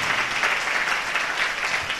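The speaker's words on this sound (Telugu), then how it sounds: "చప్పట్లు కొడుతూ ప్రభు నామాన్ని మహిమపరుద్దాం" Congregation clapping hands during a church sermon, a continuous loud wash of many hands applauding together in a hall, with no voices over it.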